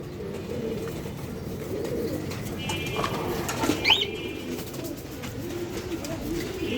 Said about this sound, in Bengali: অনেক কবুতর আমার থেকে আছে দেখেন